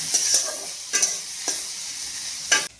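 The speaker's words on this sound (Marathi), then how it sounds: "कांदा थोडासा परतला की टोमॅटो आणि हे सगळं 2-3 मिनटं परतून घ्यायचं" Onion, garlic and tomato sautéing in a pan for paneer bhurji, with a soft continuous sizzle and a few sharp spoon-stirring scrapes spaced apart, heard close up with no voices.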